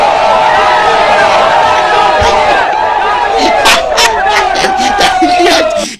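A crowd roars and cheers loudly and continuously, the dense wash of voices steady throughout with sharper shouts and whoops bursting through toward the end.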